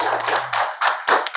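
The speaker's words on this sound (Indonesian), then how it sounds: "Coba tepuk tangan dulu." Children in a classroom clap their hands, a few short bursts of quick claps separated by brief gaps, close and fairly loud.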